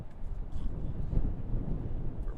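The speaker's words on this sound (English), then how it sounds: "It is very windy though, so I apologize." Strong wind buffets the microphone outdoors at Raleigh-Durham International Airport in North Carolina, a steady low rumbling roar that continues without a break.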